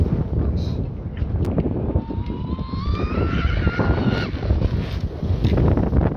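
A homemade RC speedboat called Wild Thing runs fast across open water, its motor whine rising in pitch as it speeds off, with steady wind noise over the microphone.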